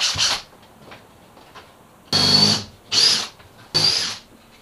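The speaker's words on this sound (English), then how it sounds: "Drill some holes." A power drill whines in short bursts aboard a boat under refit: one brief spin, a pause, then three loud close-up drilling runs a second or so apart.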